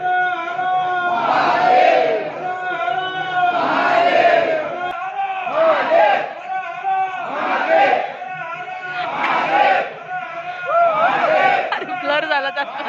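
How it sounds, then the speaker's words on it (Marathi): A dense crowd of devotees at Trimbakeshwar temple in Nashik, loud and close, with overlapping voices shouting and chanting in waves that swell and fade throughout. "अँड हिअर कम्स द गर्दी"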